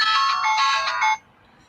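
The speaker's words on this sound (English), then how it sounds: "my phone is ringing." A mobile phone ringtone chimes loudly and close in a bright melodic electronic pattern for about a second, then cuts off abruptly to near silence.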